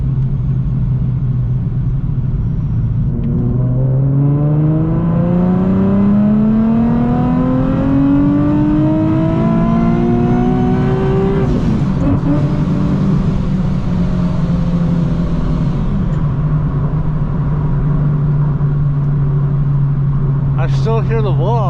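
A car fitted with a Soho A2A cog kit pulls hard in third gear toward redline, its engine note climbing steadily and loudly before easing off with a rush of air from the blow-off valve.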